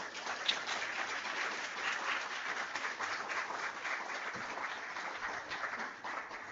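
A conference audience applauds after a speech at an institute's quality week event, steady dense clapping filling the room continuously from start to finish.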